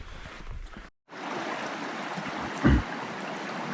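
Cedar Creek running along the Manistee River Trail, a steady broadband wash of flowing stream water that holds throughout, broken by a brief near-silent gap early on and a short louder splash or thump toward the end.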